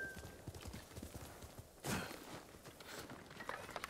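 A horse walking in Ghost of Tsushima: Director's Cut, its hooves giving a light, irregular clip-clop over soft ground, with a brief louder rustle midway and quiet game ambience behind.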